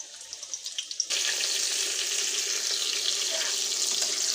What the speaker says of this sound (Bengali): তাই অর্ধেক অর্ধেক করে এটাকে ভেজে নিতে হবে